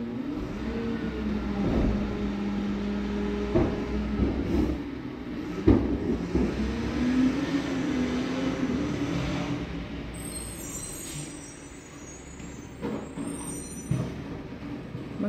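Garbage truck collecting curbside trash on garbage day, with a low diesel engine rumble, revving, hisses from air brakes and scattered clanks, heard at moderate distance without talk.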